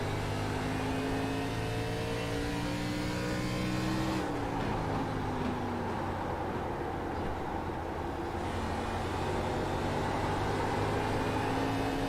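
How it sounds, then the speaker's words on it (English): ARCA series race car in a sim racing game held on throttle, a continuous loud engine drone with a steady harmonic tone that dips and shifts pitch midway before settling again, no talking over it. "Just hear how you roll to the throttle, let the car just kind of run the track."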